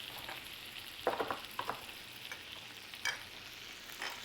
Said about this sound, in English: We add the brown sugar to the butter.